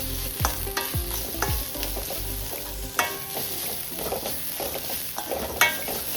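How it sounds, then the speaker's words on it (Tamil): Coconut chutney mixture sautéed in a pan over low flame, repeated stirring scrapes and spoon knocks over a steady light sizzle, close and without talk. "ஸ்டவ்வை சிம்மில் வச்சுக்கிட்டு வதக்கிட்டிங்கன்னா சூப்பராக உதிரியாக ரெடி ஆகிடுங்க"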